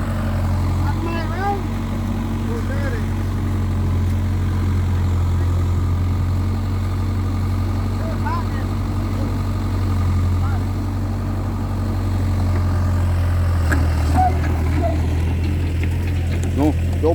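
Two tractors run their engines at a steady, loud idle-like drone while pulling a combine harvester stuck in a dry paddy field, with a continuous low rumble throughout and people talking over it.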